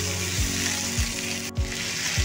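Potatoes frying in hot oil in a kadai, a steady sizzle with occasional stirring knocks recurring about every half second to second, loud and close with no talk.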